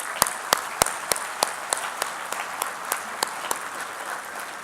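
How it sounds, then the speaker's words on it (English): A few sharp, scattered claps ring out at a steady pace at a technology hall of fame awards ceremony, fairly faint over a hushed room, like light applause tapering off. "Let's give another warm round of applause for these excellent"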